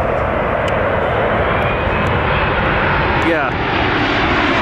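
Airliners at Los Angeles International Airport roar with a loud, steady engine rumble heard by plane spotters. The noise fills the whole stretch, with a brief spoken word over it.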